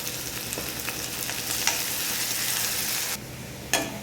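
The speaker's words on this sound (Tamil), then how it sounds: "வெங்காயம் வதங்க கொஞ்சம் உப்பு சேர்த்துக்கோங்க." Onions and curry leaves with fennel seeds and salt sauté in hot oil, a steady close sizzle with a few stirring clicks that drops in level near the end before one more scrape, with no talking.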